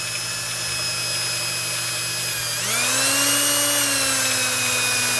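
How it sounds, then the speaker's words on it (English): A power drill polishes the inside diameter of a metal inlet nut, a steady high whine with strong tonal harmonics that rises in pitch and loudness partway through as the tool speeds up or bears on the metal. "So as I'm polishing the inside here"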